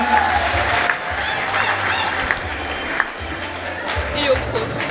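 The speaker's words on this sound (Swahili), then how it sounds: "Makofi kwa ajili yake" Sustained applause from a seated audience at a graduation ceremony for Faraja Seminary graduates in Moshi, steady clapping throughout with a few louder spikes, crowd noise blended in.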